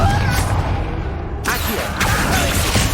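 A Confringo fire spell blast in Hogwarts Legacy on PS5 goes off as a sharp burst, then a second one, inside a dense wash of game noise and background music.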